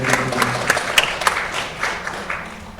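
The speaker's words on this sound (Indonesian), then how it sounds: "Kita berikan tepuk tangan kepada" A church congregation at an onsite Indonesian service in New York breaks into steady applause, with a dense wash of clapping and a few sharper claps standing out, and hardly any talk.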